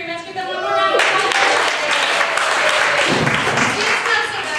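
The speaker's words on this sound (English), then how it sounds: "Give them one more round of applause." Loud audience applause at a comedy improv show for performers Alan and Ben, a dense wash of clapping that swells after a voice at the start and carries on steadily.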